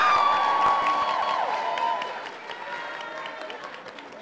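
Audience at a youth gathering with President Lula in São Paulo applauds and cheers for a rapper, loud massed clapping with whoops that gradually thins and fades over a few seconds.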